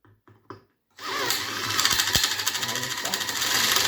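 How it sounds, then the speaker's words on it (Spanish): An electric drill boring holes into wood for dowel joints, starting after a second of quiet with a few soft knocks, then a steady loud whirring grind with rhythmic pulsing, held close and alone. "Despacio y con el taladro perfectamente recto hacemos uno de los agujeros"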